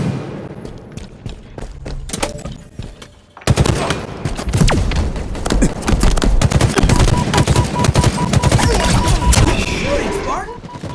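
Loud, rapid automatic gunfire from the video game Halo Infinite, starting softer and then bursting into a sustained dense barrage of overlapping shots and impacts that lasts to the end.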